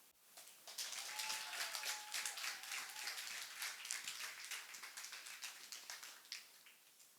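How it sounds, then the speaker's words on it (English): An audience applauding steadily for several seconds, a dense wash of many hands clapping that tapers slightly toward the end, heard at a moderate distance. "Let's give them another round of applause."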